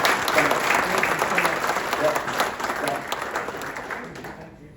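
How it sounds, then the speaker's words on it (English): An audience at a First Fridays gathering in Fort Wayne claps for Curtis Smith, steady and moderately loud, tapering off toward the end. "let's give Curtis another round of applause"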